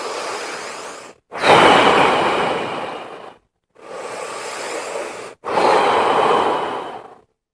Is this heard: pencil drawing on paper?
no